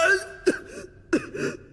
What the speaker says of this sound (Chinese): 然后还有咳嗽这样子